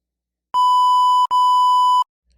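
Two loud electronic censor beeps, flat steady tones a little under a second each with a tiny gap between, used to bleep out a word, with no voices around them.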